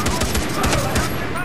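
Rapid bursts of automatic gunfire in the video game Far Cry 3, sharp repeated shots in quick succession over a busy, loud game soundscape, ending in a headshot.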